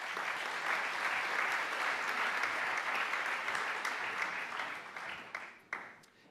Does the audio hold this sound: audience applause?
yes